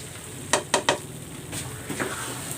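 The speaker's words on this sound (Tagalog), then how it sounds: "Haluin na natin" Latik, a coconut caramel, is stirred in a pan, with three quick scraping strokes near the start and softer stirring and light clinks afterward, close and fairly clear with no talk.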